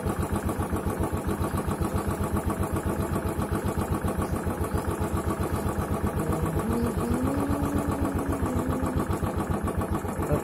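A Royal Enfield Classic 500 single-cylinder motorcycle engine idles while warming up, giving a steady, even thumping pulse recorded up close and alone throughout.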